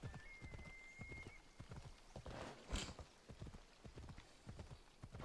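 A horse in the Assassin's Creed Odyssey video game clip-clops along in a quick, regular four-beat rhythm of hoofbeats, moderately close, with a short sharp game sound effect partway through.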